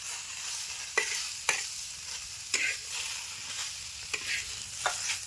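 Okra frying in plenty of oil for a curry, a soft, even sizzle with about six light scrapes of a spatula at irregular intervals, close and fairly quiet.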